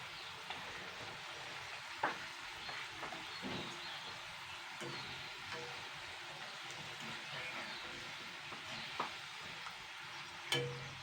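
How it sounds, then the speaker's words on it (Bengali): Potato chips frying in hot oil and being turned continuously with a stirring stick give a steady, soft sizzle, with occasional sharper clicks and scrapes standing out. No one speaks. "আমি কিন্তু আলুটাকে পনেরো মিনিট ধরে ভেজে নিয়েছি আর অনবরত কিন্তু এরকম খুঁটি দিয়ে নাড়াচাড়া করতে হবে দেখুন"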